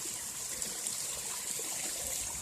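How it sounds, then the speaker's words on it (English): A small creek near Moose Pass, Alaska, flows with a steady close hiss and babble of moving water, even and continuous throughout, with no voices. "There's a little creek."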